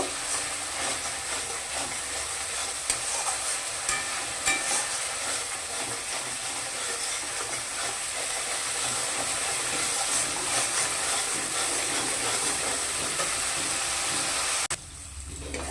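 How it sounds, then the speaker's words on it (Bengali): Spices sizzle and hiss in oil for black chickpea curry with a steady, dense crackle as they're stirred, ending with a sudden drop to quieter sound. "এবার নাড়া দিয়ে দিয়ে ভাজতে হবে।"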